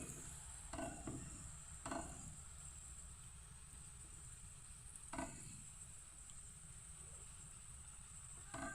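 A paratha fries in plenty of oil with a faint, steady hiss and sizzle, broken by a few short louder bursts as it is turned or pressed.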